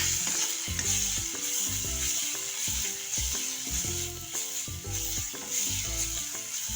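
Spices and sev usal masala roasting in a pan produce a continuous bright sizzle with repeated stirring scrapes, set against a steady rhythmic tonal backdrop.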